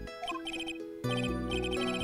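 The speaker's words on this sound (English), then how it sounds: "Oh my god, I just got a phone call." A phone ringtone plays for an incoming call, a short melodic electronic chime repeating in bright tones, moderately loud, with no talking.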